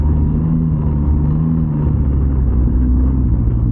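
Engine of a Can-Am three-wheeled trike riding off-road, a steady low rumbling drone that holds an even, loud level throughout with no voices.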